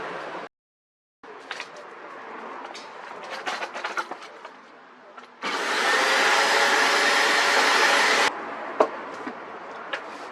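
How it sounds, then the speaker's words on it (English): A vacuum cleaner runs close up while cleaning out the gas locker of a motorhome, a steady loud whine with bumps and knocks as the nozzle moves, then a sustained louder roar when the suction is blocked or pushed deeper. "Now, before I do that, I'm going to vacuum it out in there."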